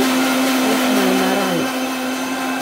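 A kitchen blender grinds rabdi for malpua batter in one steady, loud whirring run. Its pitch dips and wavers partway through as the load shifts, then settles into a slightly quieter spin toward the end.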